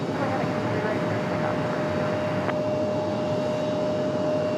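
An airliner takes off from runway 23 right at RDU as a steady, broad engine roar with a thin whine above it, loud and constant throughout.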